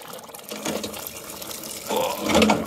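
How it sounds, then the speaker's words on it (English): Water from a garden hose flushes through a microbore central heating pipe and radiator, gurgling and splashing unevenly in bursts that grow louder toward the end. "Just waiting for the water to come through."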